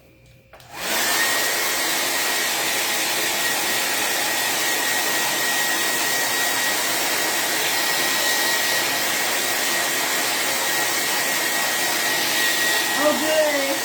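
A handheld hair dryer blows steadily and loudly at close range, switched on after a brief pause and running without a break while drying a chalk-painted decorative throw pillow.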